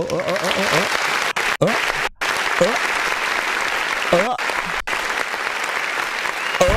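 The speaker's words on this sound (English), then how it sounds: "let me go ahead and hit the button that we're gonna clap" A canned applause sound effect triggered by a button during a live music review stream plays as a steady, loud crowd clapping. It is broken by a few abrupt dropouts, and voices are faintly audible beneath it.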